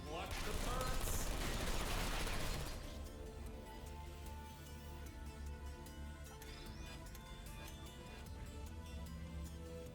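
Turrets firing in Portal Stories: Mel: a loud burst of rapid automatic fire for the first few seconds, then a long stretch of quieter, steady machine rattle and faint intermittent clicks.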